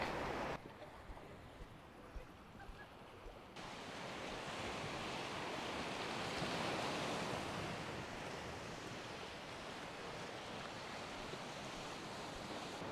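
Ocean surf rolls in at the beach at Bastion Point, Australia, a soft, continuous wash of waves that swells louder after a few seconds, with some wind buffeting the microphone and no talking.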